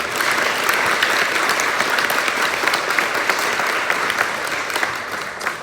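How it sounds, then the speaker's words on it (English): A high school band concert audience claps steadily for about six seconds, a dense, even wash of applause from a full room that tapers slightly at the end. "Let's give them a round of applause."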